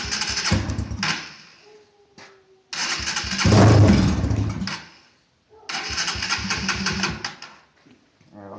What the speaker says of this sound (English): All I gotta do is hit this starter switch and it should start up for a second.